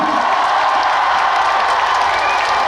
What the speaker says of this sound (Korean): 큰 박수 한번 치겠어요